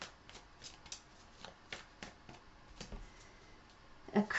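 Tarot cards riffle and slap in a quick, uneven run of soft papery flicks, close and fairly quiet, with a few sharper snaps near the end.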